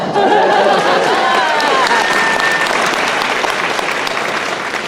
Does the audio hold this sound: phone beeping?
no